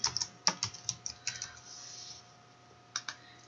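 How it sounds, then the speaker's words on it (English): Keys clack on a computer keyboard in a quick burst of about a dozen crisp taps, then a pause and a few more taps, close and clear over a faint steady hum. "In your search bar, type in Purple Mash and it finds it there."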